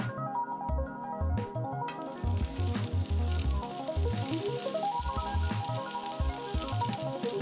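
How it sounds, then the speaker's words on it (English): Sliced onions for caramelizing sizzle steadily in hot oil in a pan, a continuous close frying hiss playing under a bouncy music track. "A bit of oil in the pan, let it heat up, then in go the onions."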